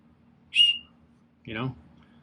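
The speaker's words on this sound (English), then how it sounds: "this is just a tiny whistle. It's not the loudest whistle in the world, but it is something." A tiny whistle from an Altoids tin survival kit gives one short, thin, high peep, followed a second later by a brief low vocal sound.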